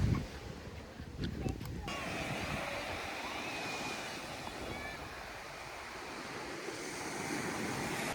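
Sea waves at Vanahalli beach roll in as a continuous broadband wash of surf with wind noise on the microphone, fairly loud and steady throughout. A brief clatter sounds near the start.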